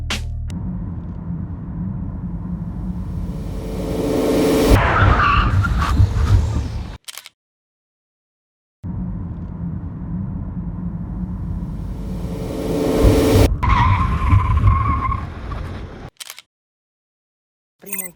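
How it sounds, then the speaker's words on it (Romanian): A BMW 320d and an Audi A4 each brake hard from 80 km/h, heard as two separate runs: steady road and engine rumble swells into a harsh tire skid, then cuts off. "vom încerca să vedem cât de repede ar frâna mașina de la 80 km/h pentru evitarea unei situații neprevăzute"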